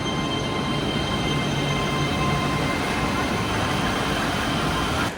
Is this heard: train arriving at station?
yes